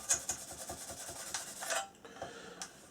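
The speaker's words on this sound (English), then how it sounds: "give it another light polish" Light hand polishing of a sanded scale model aircraft fuselage and wing part, a soft repeated rubbing rasp in short rhythmic strokes, close and quiet, trailing off near the end.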